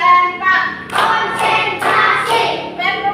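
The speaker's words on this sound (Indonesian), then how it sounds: "Tepuk satu. Tepuk satu. Tepuk dua. Tepuk tiga. Tepuk empat." A group claps through a counting routine, loud sharp bursts of hand claps falling in short clustered rounds with chanting voices between them.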